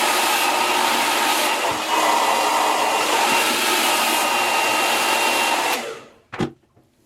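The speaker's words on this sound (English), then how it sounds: "I can just kind of get my blow dryer right back in there really quickly and restyle" A hair blow dryer roars in a steady, loud, close whoosh for several seconds, then switches off and winds down, followed by a brief clunk.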